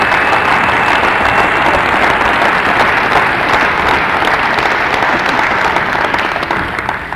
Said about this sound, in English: I'm clapping for you all, because Narcotics Anonymous works